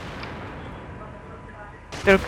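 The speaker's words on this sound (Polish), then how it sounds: "Ej, coś tu wybuchło" A single loud explosion booms near the end of a Battlefield 3 multiplayer match, bursting abruptly out of low, steady background rumble.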